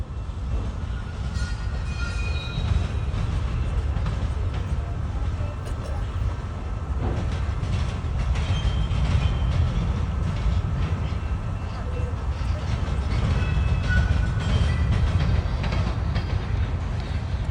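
A very long CSX freight train rolls slowly past in Romulus, Michigan, a steady low rumble with faint wheel clatter and squeals that continues without a break, with people talking over it at times.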